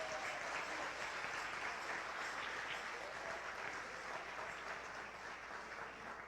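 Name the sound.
congregation applause in church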